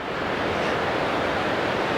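Water flowing under a small bridge in a village near Bad Ragaz, St. Gallen, Switzerland: a steady, moderately loud broadband rush with no pauses and no voices.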